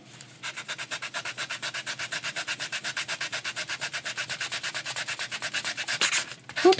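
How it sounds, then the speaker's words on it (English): A sand eraser rubbed back and forth on paper during card making, giving a steady, rapid series of scratchy strokes close up, about six per second, ending in a few heavier, irregular rubs. "I will use a sand eraser for that one"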